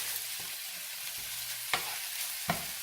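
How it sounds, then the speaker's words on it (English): Seasonings being stirred into scrambled tofu in a pan, a soft continuous sizzle broken by a few distinct scraping knocks of the utensil against the pan, close and fairly quiet, with no speech. "she's just stirring in all the seasonings"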